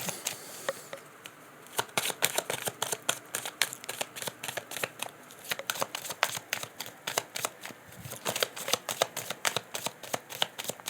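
Tarot cards being reshuffled by hand, a rapid run of crisp riffling snaps and flicks in quick irregular bursts, close and fairly loud with no talking.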